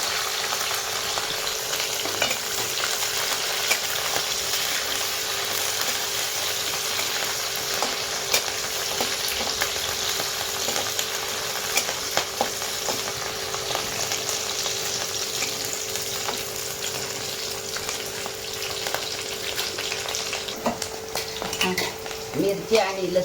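Garlic and chopped green chili fry in oil in a pan, giving a loud, steady, continuous sizzle with occasional scrapes and clinks of a stirring spoon, and no voices.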